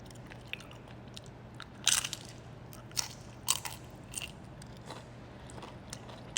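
Close crunchy bites into fresh cucumber and onion, sharp crisp cracks at irregular intervals over a quiet steady hum, with softer chewing crunches between them.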